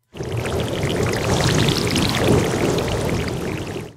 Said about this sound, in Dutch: dan kun je op die manier dus watergeluidjes maken